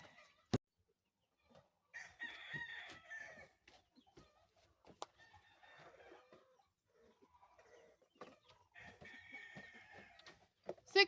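Hens in a farm laying room cluck and call in scattered bursts, with drawn-out squawks and a crow-like cry, fairly close but soft, amid quiet gaps and occasional knocks.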